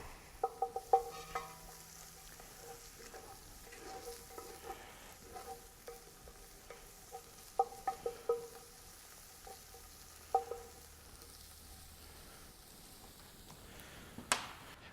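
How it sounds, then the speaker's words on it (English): Tomato puree fries in a pot for a smoked brisket chili, giving a faint, steady sizzle broken by repeated soft scrapes and taps of a spoon stirring against the pot, with no talk. "once the tomato puree is fried off for a little bit"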